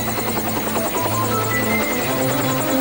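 A news helicopter drones steadily nearby, its rotor chopping in a fast, even pulse with a low engine hum underneath.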